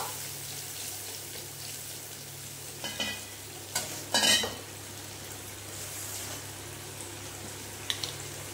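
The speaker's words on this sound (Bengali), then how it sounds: "এবার এই মশলাটা ভালো করে কষে নেব।" Cumin paste and chili paste masala frying in a hot pan while being stirred, with a steady low sizzle and a few brief bursts of scraping and clattering; no one speaks.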